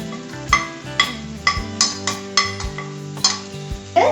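A spoon scraping and clinking in a metal pan as chicken is stirred into masala for chicken thoran, a steady series of close, bright knocks and scrapes about every half second over a faint hum.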